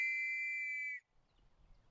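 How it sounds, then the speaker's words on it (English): A single shrill whistle blast signals a WWI trench charge, sustained and loud for about a second before cutting off abruptly into faint rumbling background. "Another whistle."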